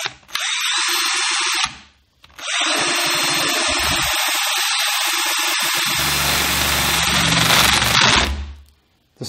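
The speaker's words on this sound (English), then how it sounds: "I'm going to drill a hole next to the last fixing" A power drill whines into a plasterboard wall in two bursts, a short one and then a long sustained run whose pitch shifts as it bites, close and loud.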